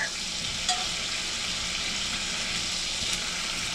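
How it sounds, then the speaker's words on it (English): Steak meat browning in a pan for steak and cheese hoagies, a dense, steady frying sizzle up close with a few light clinks of a utensil and no talking. "It's that caramelization you get from the meat being nice and browned"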